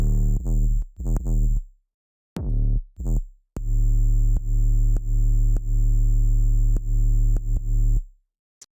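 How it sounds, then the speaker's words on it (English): Soloed sub bass synth line from an electronic music track, deep sustained tones in short rhythmic bursts that stop and restart, then a longer pumping stretch with regular dips before it cuts out. "So moving into the sub bass section here, sounds like this soloed out."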